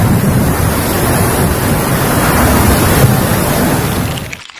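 A violent storm with strong wind and driving rain roars as a loud, constant wash of broadband noise with heavy wind buffeting on the microphone, cutting off abruptly at the end.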